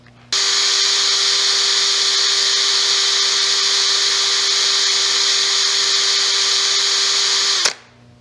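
An electric drill runs steadily at its second speed setting, a loud continuous whine that starts abruptly, holds an even pitch for about seven seconds, then cuts off and winds down.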